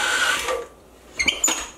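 A KitchenAid stand mixer kneads sweet bread dough on low speed: a steady motor whir that fades after a moment, then a few short clattering knocks, with no voices.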